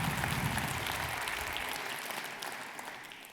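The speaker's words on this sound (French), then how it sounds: "je voudrais qu'on les applaudisse avant de visualiser" An audience at a New Year's greetings ceremony breaks into steady applause, a broad wash of many hands clapping at once that gradually fades over a few seconds.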